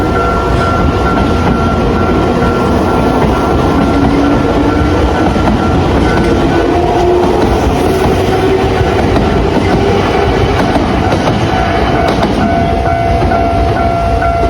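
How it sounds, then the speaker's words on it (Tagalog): A train rumbles loudly and steadily as it pulls into a station, with continuous rolling rail noise and a faint brake squeal near the platform, no talking. "So, may parating na train."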